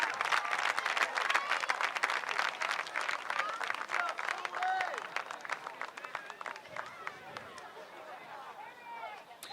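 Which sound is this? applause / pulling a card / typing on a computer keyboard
applause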